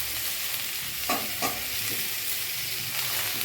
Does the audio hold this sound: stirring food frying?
yes